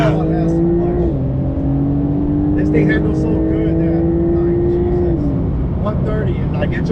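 Porsche 992 Turbo S with a titanium Ryft full exhaust driven fast, heard as a steady engine drone from inside the cabin whose pitch climbs slowly and then drops, with faint talk over it.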